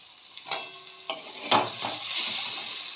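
Cabbage fries in a pan for a vegetarian stir-fry. A few clattering utensil strokes and pan knocks are followed by a rising, steady sizzle, heard up close.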